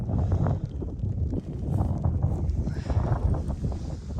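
Steady low rumbling wind buffeting the microphone, continuous and close, with gusts rising and falling throughout.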